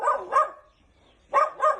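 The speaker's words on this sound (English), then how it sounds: "My neighbor has a dog who constantly barks." A dog barks close by in two pairs of sharp, quick barks separated by a short silence.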